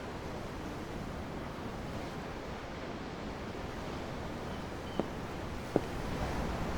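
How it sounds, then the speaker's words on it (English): Ocean waves in Tales of Arise, heard from aboard a ship, wash in a steady, even roar of surf with a couple of faint taps near the end. "The ocean? Yeah. The waves."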